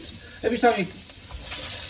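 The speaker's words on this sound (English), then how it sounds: "you can turn it back up again until it starts really sizzling" Ginger sizzles in hot oil for a noodle stir fry, a brief crackle with a couple of stirring scrapes, heard up close and fairly quiet.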